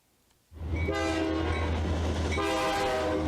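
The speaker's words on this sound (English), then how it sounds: "Oil trains cross Washington State on tracks owned by Burlington Northern Santa Fe Railroad" An oil train rolls along railroad tracks in Washington State, a loud, steady rumble with ringing metallic tones and wheel clatter that starts abruptly and holds close by without letup.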